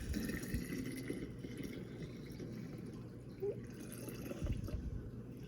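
Liquor is poured through a collapsible funnel into a bottle for homemade vanilla extract, a soft continuous trickle and gurgle heard up close at low volume, with a few faint clinks and no talking.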